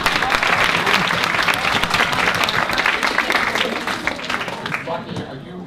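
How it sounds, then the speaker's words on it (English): Lecture audience applauding at a talk on market efficiency, dense steady clapping from a room full of people that gradually thins and fades toward the end. "Give them a round of applause."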